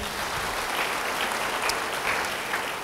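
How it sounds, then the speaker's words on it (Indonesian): A church congregation applauds a person during a sermon, a short burst of steady, even clapping from a crowd with no voices. "Yang mau beri tepuk tangan bagi dia."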